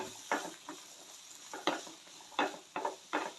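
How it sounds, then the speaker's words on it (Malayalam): Two or three large chopped onions stirred in a frying pan: a soft, steady sizzle broken by repeated scraping strokes of the spoon at close range, with no voices. "രണ്ടോ മൂന്നോ വലിയ ഉള്ളി കൊത്തി അരിഞ്ഞത് ഇട്ട് അത് നന്നായി ഇളക്കി"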